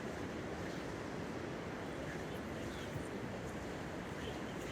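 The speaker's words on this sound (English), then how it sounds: "Don't know if you can see the surf. You can definitely hear it." Pacific Ocean surf at Pismo Beach, California, roars continuously nearby, a broad steady wash of big breaking waves with some wind rumble against the microphone.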